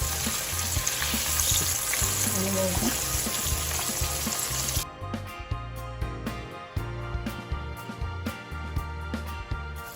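Sliced green tomatoes fry in hot oil with a loud, steady crackling sizzle that runs throughout, growing lighter and more spattery halfway through as it settles into scattered pops.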